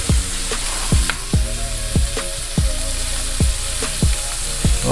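Seafood for a pasta dish sizzles in a pan, a loud continuous fry with crackles and a regular series of low thumps, like a utensil knocking the pan while stirring.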